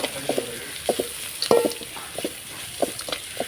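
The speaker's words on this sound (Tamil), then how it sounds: "வேர்க்கடலையும் போட்டு நல்லா வதங்கணும்" Ground peanuts sautéing in a pan over a normal flame, with a soft continuous sizzle and irregular scraping clicks from stirring at close range, no talking.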